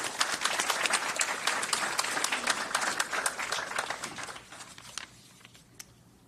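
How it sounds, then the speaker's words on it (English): Audience applause for basketball award finalists at a Pennsylvania player-of-the-year ceremony: steady dense clapping from a large indoor crowd that thins and fades out near the end. "Let's please give all of our finalists a round of applause,"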